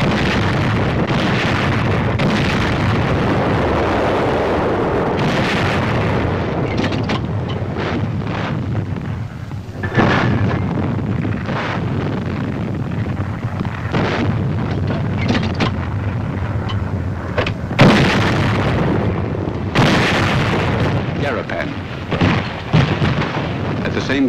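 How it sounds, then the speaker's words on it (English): Army artillery fires near Garapan on Saipan in the Marianas, with deep booming blasts and rumbling explosions rolling over heavy wind-like noise, several sharp loud impacts standing out toward the end. "Army artillery goes into action."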